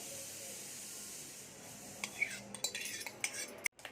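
A spoon clinks and scrapes in a bowl while mixing chilled custard-powder milk with mixed fruit: faint, irregular metallic taps and stirring scrapes that grow busier toward the end, close by, with no talking.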